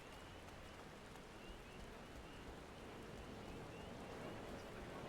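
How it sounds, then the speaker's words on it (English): Steady rain in the video game Final Fantasy XIV Online, a faint continuous hiss of drops on surfaces without pause, heard alone. "Yeah, and it's raining."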